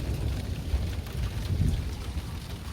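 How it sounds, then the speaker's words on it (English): A thunderstorm with rain, heard as a steady wash of rainfall over a deep rolling rumble that swells and fades throughout. "And there's a thunderstorm."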